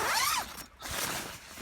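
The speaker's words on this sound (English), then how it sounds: "So you got two-way zips here, up, down, whatever you fancy." A two-way zip on a shelter runs in a quick rasping pull, pauses briefly, then zips again in a longer steady stroke, close and alone.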